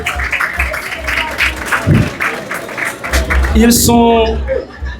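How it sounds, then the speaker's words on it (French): An audience applauds at a gathering in Haiti, clapping mixed with crowd murmur and voices talking over it, ending with a louder burst near the close. "On les applaudit, mesdames et messieurs."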